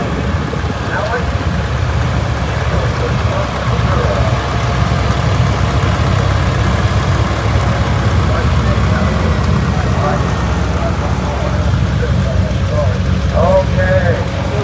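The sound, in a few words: 1967 Oliver 1250 tractor engine idling in parade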